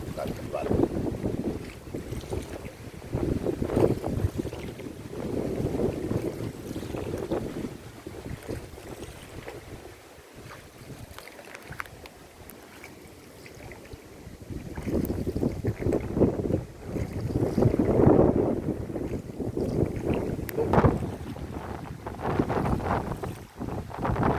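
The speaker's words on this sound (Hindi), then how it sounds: "पिताजी जो है जो नाव चला रहे हैं, यहाँ पे बहुत दिनों से नाव चलाते हैं।" A small boat rowed on open water, with soft splashes and rumbling water noise under steady wind buffeting the microphone, and a voice speaking intermittently throughout.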